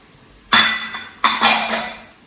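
Herbs such as coriander and mint being stirred in a hot sizzler pan, heard as a few loud metallic clanks and clinks of a utensil against the pan, each ringing out briefly, with no voice.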